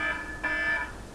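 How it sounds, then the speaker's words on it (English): An alarm clock goes off with a steady electronic buzzing tone that swells slightly partway through, loud and continuous without pause. "That's my alarm, 4:45."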